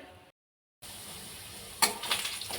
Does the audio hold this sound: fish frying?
yes